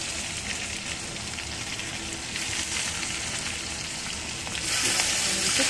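A steady, close sizzle of onions frying in a hot pan, with a constant crackling hiss that grows slightly louder near the end.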